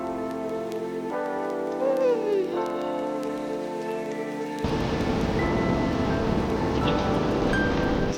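Ocean surf on Chirala beach rushes in as a loud, steady broadband wash for the final few seconds, following an opening stretch of tonal, harmonic sound.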